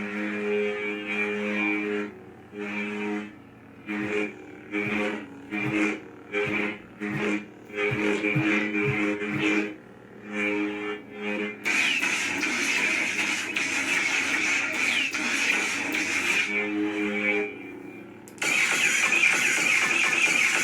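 A higher-pitched lightsaber sound font hums steadily, broken by a series of rhythmic swings and pulses, then settles into a brighter, buzzier sustained tone near the end.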